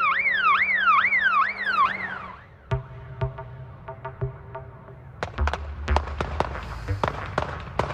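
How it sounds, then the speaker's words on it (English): Fireworks going off during fireworks night, starting with a rising and falling siren-like whistle, then a run of sharp crackling bangs and pops, some close and loud, others scattered and farther off. "It's the run-up to fireworks night, with Guy Fawkes tried and sentenced."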